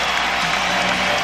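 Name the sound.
standing ovation from a capacity arena crowd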